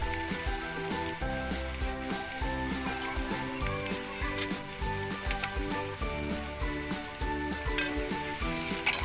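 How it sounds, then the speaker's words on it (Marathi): Onion frying in a big spoonful of oil in a pan, cooked until pink, giving a steady sizzle beneath louder rhythmic background music. "कांदा मस्त गुलाबी रंगावर भाजून घेऊया।"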